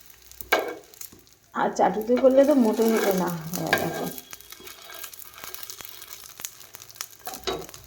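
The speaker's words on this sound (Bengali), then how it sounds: "এটা লাল লাল করে ভেজে নিই" Patishapta pitha frying in a nonstick pan, a soft, low sizzle and light stirring beneath someone talking nearby, fading to a faint crackle once her voice stops.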